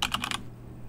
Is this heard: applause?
no